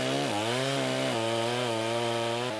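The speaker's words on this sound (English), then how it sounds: "So, Bennie, this is your one concession to modern technology, this chainsaw?" A chainsaw roars loud and close as it cuts into a tree in the Tasmanian bush, the engine pitch dipping and rising under load in a steady, unbroken whine.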